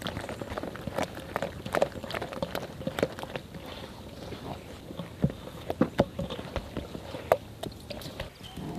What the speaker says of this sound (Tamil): இதை நல்லா கலக்கிக்க போகிறோம்